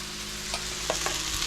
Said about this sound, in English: it's time to cook out our sauce